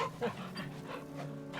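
A dog, Torgal in Final Fantasy XVI, pants softly in quick rhythmic breaths with a faint whimper, close but quiet under a low game hum.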